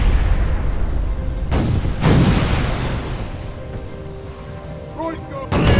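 Heavy booming blasts from ship cannons in the naval video game Furious Seas, a big burst near two seconds among a dense rumbling, roaring game soundscape, with music-like tones late on.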